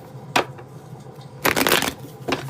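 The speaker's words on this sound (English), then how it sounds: "Just doing a little shuffle." Tarot cards being shuffled by hand in three short riffling bursts, close and fairly quiet, with a brief pause between them.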